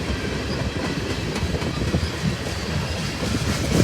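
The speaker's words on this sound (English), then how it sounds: "Whoa, that's a long train." A long CSX freight train rolls past close by with a loud, steady rumble and rhythmic clickety-clack of wheels over rail joints. There are no voices.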